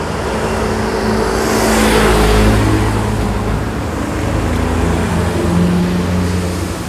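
Steady engine drone and road rumble inside a moving, nearly empty city bus, with a loud low hum throughout and a brief swell of noise near the middle; no talking.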